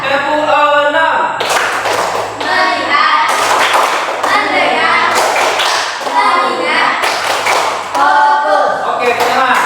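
A class of children claps hands in a counted rhythm, a run of sharp, loud claps in irregular bursts with a voice calling the count between them.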